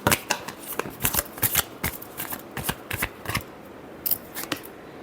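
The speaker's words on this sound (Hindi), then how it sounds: "Last shuffle." Tarot cards being shuffled by hand in a series of quick, crisp riffling bursts with brief pauses between them, close and fairly soft, with no talking.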